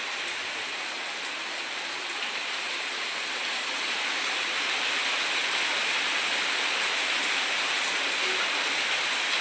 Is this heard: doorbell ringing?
no